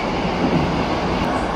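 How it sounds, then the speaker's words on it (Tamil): Steady rumbling roar from inside a moving metro carriage in Russia, a loud continuous rush of wheels and motor with no voices. "இதுதான் மொத்த மெட்ரோ ட்ரெயின்"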